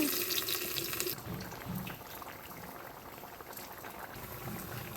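Garlic dropped into about two and a half spoons of hot oil in a pan, a loud sizzling hiss that starts strong, then settles into a steady bubbling crackle, close and alone.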